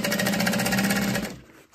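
Sewing machine top stitching the folded edge of a fabric slip pocket for a messenger bag lining, a fast even run close up that stops toward the end.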